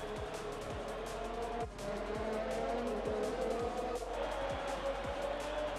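An F1 race car in the video game F1 2021 at the Mexico Grand Prix, a close, steady engine whine with tire squeal and skidding under hard braking, and gear shifts dropping in a regular rhythm.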